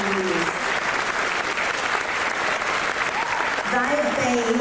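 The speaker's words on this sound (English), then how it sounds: "Please give your heads a round of applause." An audience at a Year 12 senior high school presentation night bursts into dense, sustained applause, with voices faintly audible at the start and end.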